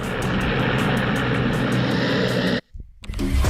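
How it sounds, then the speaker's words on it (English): Helicopter carrying the president of Bolivia, Evo Morales, malfunctioning right after takeoff: a loud, steady roar of engine and rotor with a pulsing chop, cutting out abruptly near the end before a brief resumption. "This helicopter was supposed to deliver the president of Bolivia, Evo Morales, but malfunctioned immediately after takeoff"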